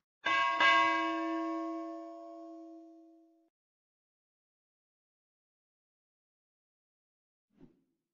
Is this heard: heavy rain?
no